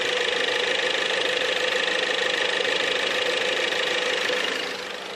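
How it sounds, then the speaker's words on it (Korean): A 2014 Lincoln MKZ with an EcoBoost engine idles with the hood open, giving a steady, smooth hum with a faint ticking texture that holds close and even throughout, then eases slightly quieter at the very end, with no voices. "바로 엔진 소리 한번 들려드릴게요."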